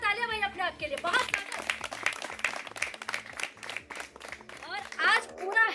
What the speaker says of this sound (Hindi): जोरदार तालियां भाई अपने आप के लिए